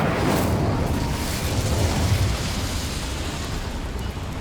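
An Incendio fire spell from Hogwarts Legacy bursts out as a loud, dense whooshing blast of flame that roars steadily and slowly tails off, with no voices over it.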